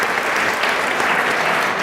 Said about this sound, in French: je pense qu'on doit les applaudir pour leur participation et leur sagesse